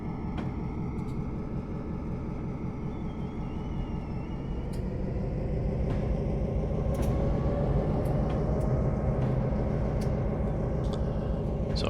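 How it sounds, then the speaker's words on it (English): A long freight train rolls along in Train Simulator 2020, giving a steady, loud, continuous engine drone and rumble with faint clanks and ticks scattered on top and no talk. "Got a nice long train now."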